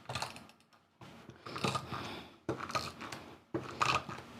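Tape is pulled and pressed onto small folded paper pieces for a centre-pop fun fold card, giving several crackly, scratchy bursts up close with no talk.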